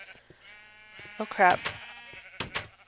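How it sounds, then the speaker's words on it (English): Sheep bleat in a video game, a couple of wavering calls near the middle and end while someone talks briefly over them. "There's white sheep, there's blue sheep"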